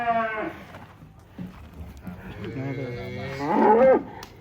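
Cattle mooing in a pen at a cattle farm, a low drawn-out call that swells into a loud, rising moo near the end, with faint barn noise underneath.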